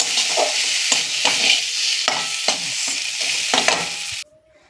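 A close, loud sizzle of pumpkin frying with a hing tempering, with a spatula stirring and scraping the pan in quick regular strokes, ending abruptly in near silence.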